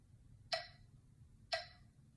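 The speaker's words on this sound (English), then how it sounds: "Can you clap along with the metronome?" Metronome ticking slowly at 60 beats per minute, two crisp isolated clicks exactly one second apart over faint low background hum, with no talking.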